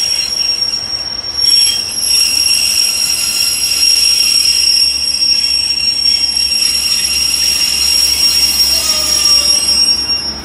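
A Pacer diesel train passes through Cardiff Queen Street station with slightly squeaky wheels: a steady, loud rumble runs under high, sustained metallic squeals for the whole stretch, with no talking.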